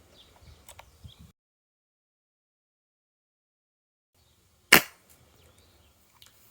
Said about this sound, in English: Muzzle report changing considerably there.